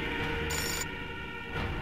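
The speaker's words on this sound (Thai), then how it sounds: "มาคัสรับโทรศัพท์ลูก" A telephone rings inside the video game Fahrenheit: Indigo Prophecy, one short electronic ring burst standing out over a steady game ambience with no talking.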